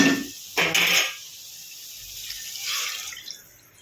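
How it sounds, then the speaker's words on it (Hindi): A glass of water poured into a cooking pot of makrauli and potato vegetable curry, with a short splashing gush near the start, a second brief pour, then fainter trickling and dripping. "इसमें हम 1 गिलास पानी डालेंगे इसको पकाने के लिए।"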